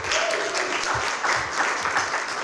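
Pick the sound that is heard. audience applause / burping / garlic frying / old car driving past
audience applause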